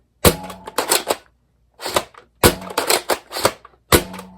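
A Siren Maulr toy foam blaster fires in a string of sharp, close snaps and springy clacks, irregularly spaced with brief pauses, loud and without speech.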